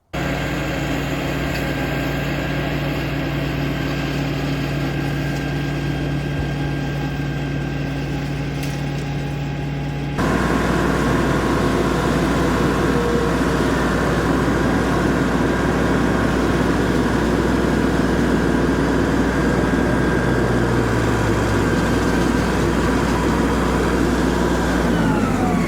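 A Betstco flail mower runs continuously as it cuts grass, a loud steady mechanical drone that jumps up in intensity partway through and then holds.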